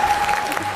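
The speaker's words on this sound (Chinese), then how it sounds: "掌声恭喜！" A studio audience at a televised dating show claps to congratulate a contestant, producing a short, dense burst of steady applause with a faint sustained tone beneath it.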